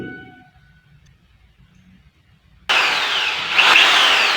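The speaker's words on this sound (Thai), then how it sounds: "ใช้สว่านเจาะรู" A loud electric drill kicks in abruptly after a near-silent stretch, drilling holes with a steady harsh high whine that rises briefly near the end.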